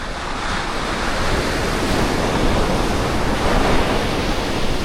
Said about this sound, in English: The sound of waves crashing onto the sand